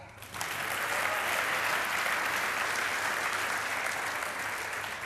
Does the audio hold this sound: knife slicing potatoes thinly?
no